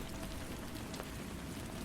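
Steady rain falling and pattering on a surface, a dense, even hiss that holds at a constant level throughout with no voices.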